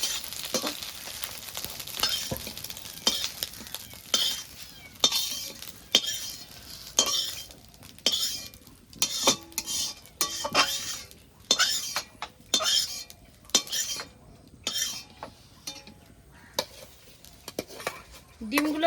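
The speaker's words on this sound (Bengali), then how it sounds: "আমাদের এদিকে ডিম গুলো ভাজা হয়ে গেছে" Eggs frying in a pan, stirred with a utensil: repeated scraping and clinking strokes in an irregular rhythm over a soft sizzle, close and fairly loud, with no talking.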